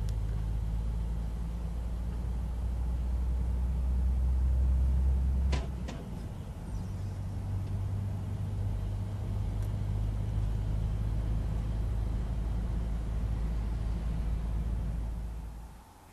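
A truck loaded with about 18 tons accelerates, its deep engine drone rumbling steadily with a brief drop and shift partway through, a short clunk, then the engine building again before fading at the end.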